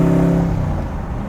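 A 1965 Shelby Daytona Coupe (Factory Five build) engine hums steadily and loudly from inside the car while driving, a sustained low drone that eases off slightly, with no talking.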